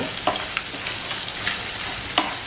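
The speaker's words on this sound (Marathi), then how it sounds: "मसाले जरा थोडे दोन मिनटं परतून घ्यायचे" Ground spices for prawn vada pav sauté in a hot pan, giving a constant soft hiss and sizzle with a few light stirring taps.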